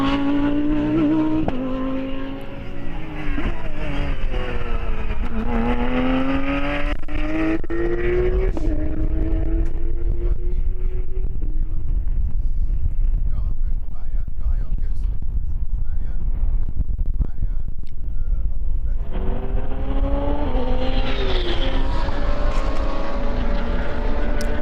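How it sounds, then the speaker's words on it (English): Porsche 992 Cup race cars engines roar as they speed around the BalatonPark circuit in a GT race, with rising and falling engine pitch and gear changes continuous under a commentator's talk. "the Porsche 992 Cup."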